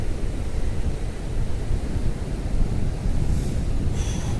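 Sea surf at Digha beach rolls in as a steady broadband wash, with low rumbling swells and wind buffeting the microphone, continuous and fairly loud with no voices.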